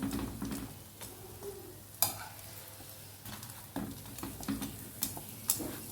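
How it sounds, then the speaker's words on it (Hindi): An egg paratha fries in a pan with a steady low sizzle, punctuated by sharp clicks and scrapes as it is pressed down and turned, close and alone without talk. "ये देखें कितना खूबसूरत अंडा जो है पराठा जो है फ्राई हो रहा है।"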